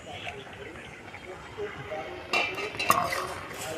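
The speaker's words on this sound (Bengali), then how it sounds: "একটু নেড়ে দেবো" Stirring a papaya, potato and chickpea curry in a pot: soft, low background noise with faint voice, then a burst of close metallic scraping and clinks from the spoon against the pot.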